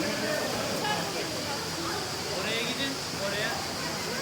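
The waterfall in Şahindere Canyon near Altınoluk gives a steady, close, broadband rushing roar that fills the whole stretch without a break, with a person speaking faintly beneath the constant water noise.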